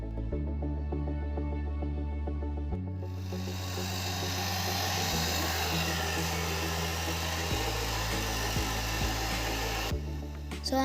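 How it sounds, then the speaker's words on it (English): A hair dryer drying an acrylic painting blows with a steady, loud whooshing hiss over background music, starting a few seconds in and cutting off shortly before the end. "I am using hair dryer to dry painting."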